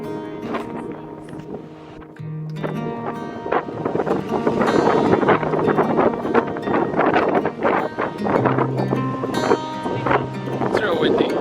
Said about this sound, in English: as you can see, it was very windy